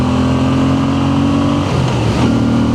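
A steady, loud Moto Guzzi V7 Sport motorcycle engine drone with a droning low hum throughout, rising slightly in pitch near the end as if revving; no voices.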